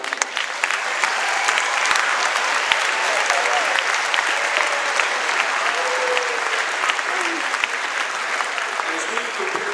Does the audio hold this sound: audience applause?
yes